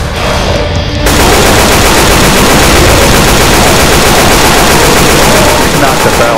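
Dense, continuous rapid gunfire in a video game blasts at close range, loud and unbroken after a brief quieter opening, like nonstop automatic weapon fire.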